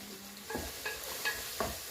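Fish frying in a small pan, a soft steady sizzle with a few faint scraping stirs at intervals, quiet and close.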